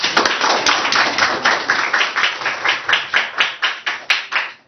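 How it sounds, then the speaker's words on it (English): An audience at an Independence Day celebration applauds performers with a burst of brisk hand clapping that thins into rhythmic, pulsing claps, loud and close with no voices over it. "A big round of applause for our performers."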